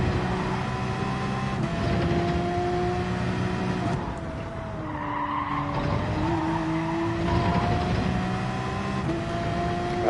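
Race car in Gran Turismo 7 during a qualifying session, its engine holding a steady droning pitch that rises and falls with gear changes, while tires squeal and skid loudly through corners across the whole stretch.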